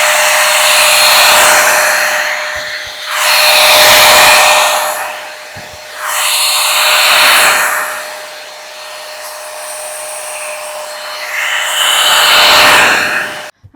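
A Temu Dyson-dupe hair styler blows a loud, steady airflow while straightening a section of hair. The rushing hum swells and dips in several long passes close by, with no talking over it.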